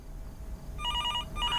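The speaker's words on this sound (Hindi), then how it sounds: "टेलीफोन बज" An old-style telephone bell rings in two quick bursts, clear and moderately loud, over a low background rumble during a night drive on a haunted highway game, with no voices.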